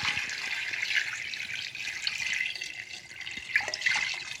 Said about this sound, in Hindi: अभी हम इसके अंदर पानी डालेंगे जिसमें ये सारा डिप हो जाए।